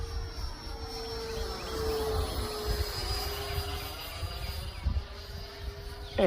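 Freewing Eurofighter Typhoon RC jet with a 90mm EDF unit at half throttle, a steady high whine from a distance with a faint doppler sweep as it passes, over wind noise outdoors.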